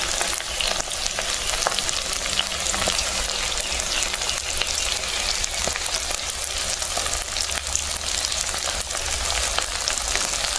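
Ash gourd fritters fry in a pan of hot oil, producing a dense, continuous crackling sizzle with scattered tiny pops, steady and fairly loud throughout with no speech.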